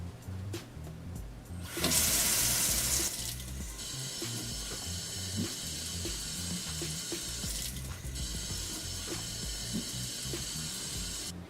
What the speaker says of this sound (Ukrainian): Проточна вода та трошки миючого засобу Діждропс достатньо для того, щоб почистити тримач в домашніх умовах